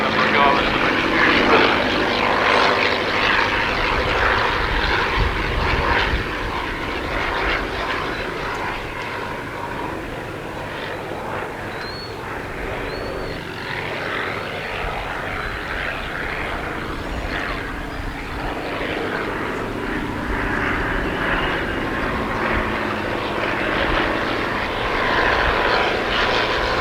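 Vintage propeller aircraft manoeuvring overhead at the Stow Maries airshow, a continuous droning engine and propeller rising and falling in loudness as it passes, with a commentator's voice speaking over it.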